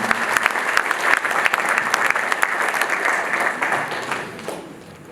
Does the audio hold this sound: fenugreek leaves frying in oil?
no